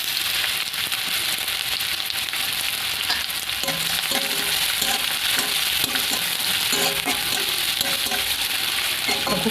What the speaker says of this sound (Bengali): তো একটু পেঁয়াজটা হালকা করে নেড়ে নেবো।